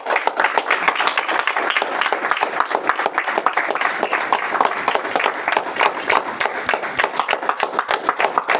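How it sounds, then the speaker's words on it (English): Steady audience applause fills a Toastmasters meeting room, dense and continuous clapping from a crowd held at an even level throughout. "Guys, a little bit more energy. Keep the applause going."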